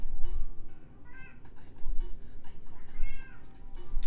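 A house cat meows repeatedly in the background during an evening coding livestream, several short plaintive calls over a steady low room hum, with no speech.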